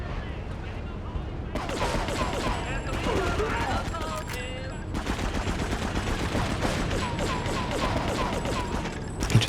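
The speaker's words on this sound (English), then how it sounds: "He just keeps shooting." Rapid bursts of gunfire in Grand Theft Auto III on PS2 clatter almost nonstop, dense and loud, with brief lulls between volleys and a person talking over the shooting.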